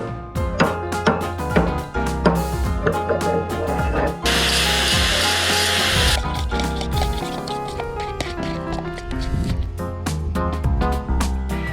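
A whining power polisher works a sailboat cockpit overhead, a sustained high-pitched buzz with pulsing, rattling bursts and one loud steady surge in the middle.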